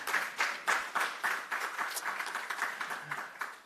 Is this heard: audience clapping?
yes